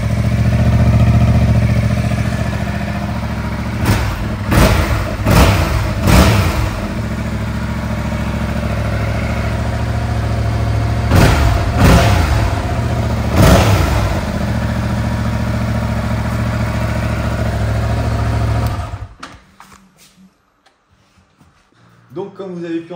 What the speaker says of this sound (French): t'entends vraiment le son du bicylindre et franchement je trouve que c'est un super son